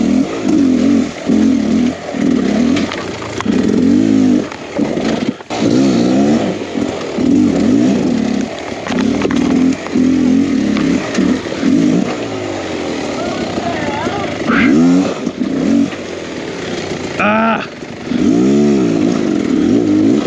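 A 2023 Beta X Trainer 300 enduro motorcycle revs in choppy bursts while climbing a trail at the Hope Nickle Mine. The engine is close and loud, with a rider talking over it.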